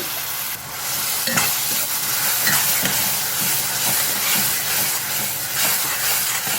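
Tomatoes sizzle and hiss steadily in a hot pan for a Tamil brinjal thokku, with a spoon scraping and stirring at intervals and no one speaking.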